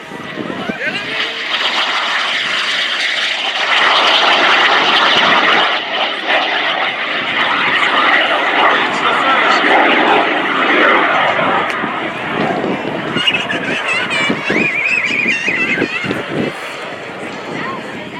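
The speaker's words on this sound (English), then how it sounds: "It'll be way easier to track the Mini Jet as it comes by for its photo pass." A Mini Jet making a photo pass at the MCAS Cherry Point air show, a loud jet engine roar that swells as it passes, then fades into crackling noise and scattered crowd sounds.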